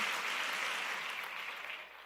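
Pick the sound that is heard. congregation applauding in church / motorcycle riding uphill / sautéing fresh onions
congregation applauding in church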